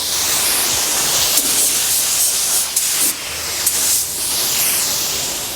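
Steady hissing spray from a paint gun laying a second coat of clear onto a 1986 Mazda RX-7 FC engine bay in cold conditions, a continuous close broadband rush with a few brief pauses and sputters, no talking.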